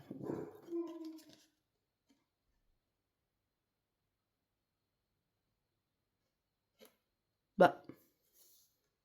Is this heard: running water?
no